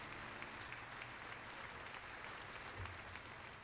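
Applause from a small crowd, a steady wash of clapping that runs evenly the whole time, heard faintly and alone.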